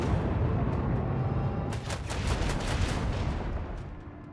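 Gunfire in the video game Warhammer 40,000: Rogue Trader, a loud dense burst of rapid shots and blasts over a roaring battle bed, with no talk.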